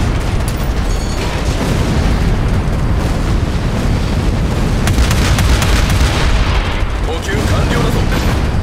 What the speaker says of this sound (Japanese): キャノン砲命中だ。